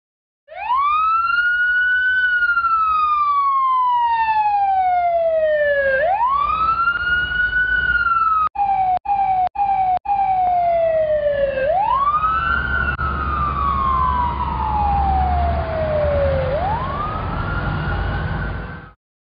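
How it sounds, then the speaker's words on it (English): A toy fire engine's electronic siren wails loudly and steadily alone, rising and falling in long sweeps with a few brief dropouts midway. "Fire engine."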